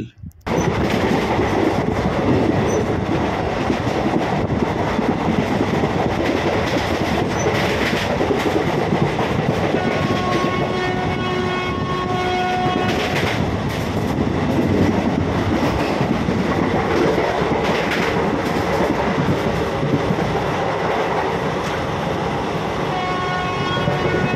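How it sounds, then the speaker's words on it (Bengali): The Kanchanjunga Express between Silchar and Sealdah rolls along the rails, a loud continuous rumble of wheels and carriage noise with faint rhythmic clatter and a few brief squeals, heard from inside the train. "আর তোমরা যারা ট্রেন প্রেমী, তারা এই আওয়াজগুলোকে জাস্ট ফিল করো, ফিল"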